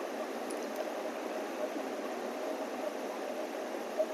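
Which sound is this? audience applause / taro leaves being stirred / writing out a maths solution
taro leaves being stirred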